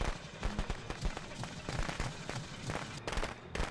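Gunfire in the video game Friday the 13th: a rapid, crackling run of sharp shots that fires steadily for several seconds, with voices faintly underneath.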